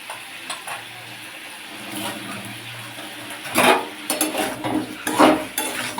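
A spoon stirs salt through a pumpkin and drumstick curry in a pan, giving repeated scraping and sloshing strokes over a steady background hiss, growing busier toward the end.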